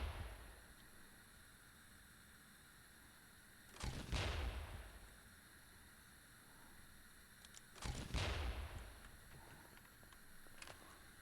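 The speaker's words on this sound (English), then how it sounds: "Grenades fired from grenade launchers explode on impact, so don't try to bounce them around corners." A grenade launcher in a video game fires twice, each shot followed by a sharp explosion that rings out over faint background hum, with long pauses between the bursts.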